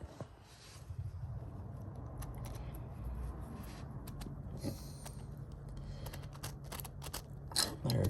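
Gears in a Vitavon rear axle for a Traxxas UDR truck turn by hand with a quiet, close ratcheting grind and intermittent clicks and creaks.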